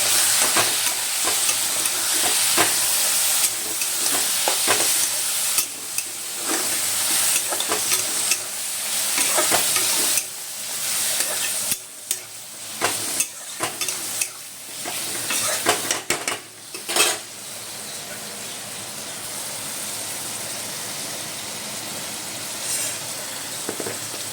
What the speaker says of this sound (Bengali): এরপরে আমি শাকটা দিয়ে দেবো, দিয়ে নাড়বো।